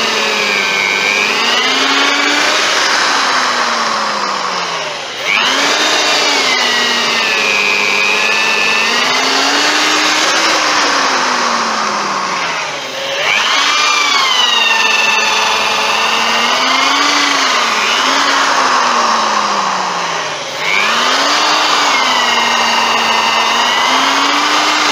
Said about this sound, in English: Let the drill bit do the work. Okay, don't force it,